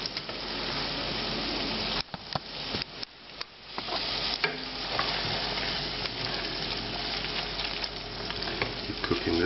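Farfalle pasta cooks in a reducing tomato sauce, giving a steady close sizzle and bubbling with a few brief stirring pauses, no voices.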